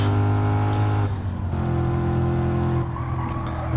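A stock Chevrolet C8 Corvette, rear mid-engine, on a race track, its engine note drops as it brakes, a loud harmonic drone falling in pitch, then settling into a steadier lower hum.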